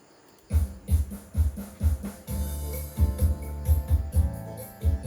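A Yamaha Motif synthesizer plays a song with a punchy, rhythmic beat of thumping bass hits and layered tones, heard through a room microphone.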